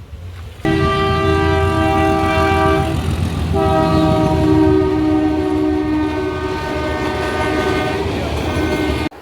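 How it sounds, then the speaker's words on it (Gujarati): A train passes close by a level crossing amid jammed traffic, its horn blaring loud and sustained for several seconds with a short break, over the rumble of the wagons. "ટ્રેન આવી છે ટ્રેન જોવી ને"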